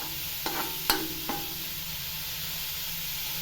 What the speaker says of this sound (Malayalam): ഇത് എണ്ണയിലാണ് വെന്ത് വരുന്നത്.